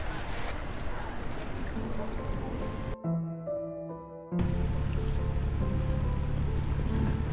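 Steady rain patters and hisses, briefly cut off midway, then returns as a dense, constant wash of sound.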